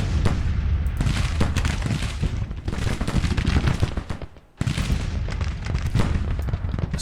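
Artillery battery in Grand Tactician: The Civil War firing with only half its guns, a dense continuous rumble of booming shots with a brief lull near the middle before the firing resumes.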